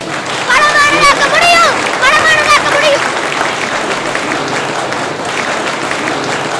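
An audience applauds a young boy's stage speech, a dense wash of clapping throughout, with loud voices and cheers rising over it in the first few seconds before the clapping carries on alone.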